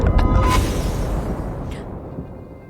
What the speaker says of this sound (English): A thunder strikes somewhere in the lands of Aurelion.